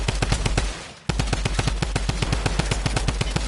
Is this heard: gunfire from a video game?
yes